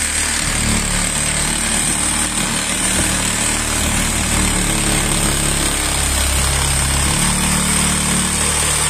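A reciprocating saw cuts through a 1951 ceiling during a renovation teardown, its motor buzzing loud and steady with a rough, grinding rasp that runs without a break for the whole stretch.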